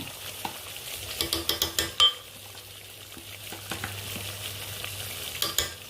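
Repeated scraping and tapping of a spoon stirring chicken masala with a ground coconut, onion and garlic paste in a pan, with a quiet sizzle underneath and several quick clatters in a row.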